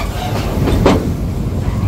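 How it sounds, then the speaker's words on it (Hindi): A train in Australia slowing to cross a bridge, its wheels clattering in a steady rumbling rhythm close by, with a few sharper clacks over the continuous roll. "टकाटम टकाम टकाटम टकम जो आवाज़ आती है ना"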